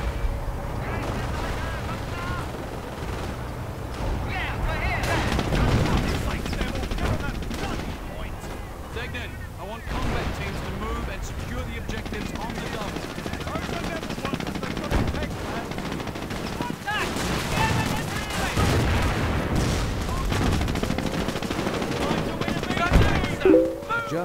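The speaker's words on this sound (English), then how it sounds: "Oh man, I love artillery." Artillery and machine-gun fire rumble through a Company of Heroes battle: repeated heavy booms and rattling bursts at varying distances, continuous over about twenty seconds with battlefield noise and some speech mixed in.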